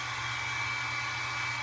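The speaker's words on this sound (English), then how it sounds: "I use my blow dryer and I just dry my eyebrows after I've glued one layer." A handheld blow dryer runs steadily up close with a constant whooshing roar and whine, drying glued-down eyebrows during drag makeup, with no talking over it.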